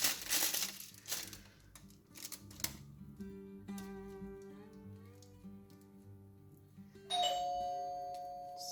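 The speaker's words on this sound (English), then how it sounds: "Sorry about that. That was the doorbell." A faint two-tone chime rings indoors, followed by a louder, sustained electronic tone near the end amid light clattering.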